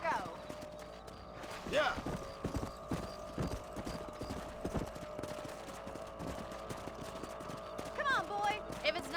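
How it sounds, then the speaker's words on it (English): Horse hooves clip-clop steadily through the Red Dead Redemption game world, with an occasional neigh, while a voice speaks briefly over the trotting. "Is there a way to calm the horses, or is that only a second game thing?"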